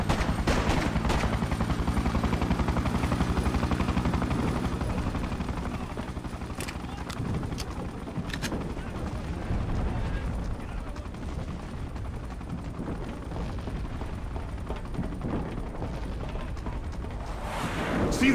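Continuous gunfire and explosive clatter from a battle against soldiers in the video game Freedom Fighters, dense and loud under a steady rumble of combat noise.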